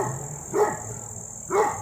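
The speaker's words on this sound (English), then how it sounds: "I don't know what she's barking at." A dog gives two sharp barks about a second apart, moderately close, with a faint steady high whine in the background.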